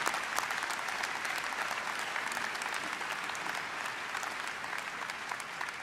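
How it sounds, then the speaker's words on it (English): Steady applause from a crowd, sustained clapping throughout at moderate volume. "Give a round of applause to Robert Porter's legacy."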